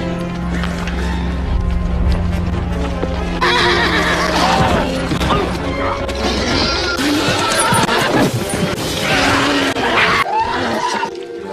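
Restless horses neigh and whinny repeatedly amid a loud, busy film soundtrack, with occasional hoof clatter and crashing noises, in a story where the animals grow agitated before a monster attack.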